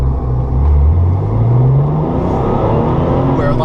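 A Porsche 993 Turbo engine pulls hard while driving on back roads, a loud, deep drone rising in pitch as it accelerates, then holding a steady rumble.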